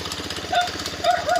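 Honda Beat FI scooter engine idling with a rapid, rattly knocking rhythm from a worn spring, steady and close, with a few brief higher tonal squeaks.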